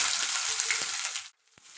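Cumin, bay leaf, cinnamon, onion and chili sizzle in hot oil for sambar, a close, steady, bright frying hiss that cuts off abruptly, followed by a faint tap.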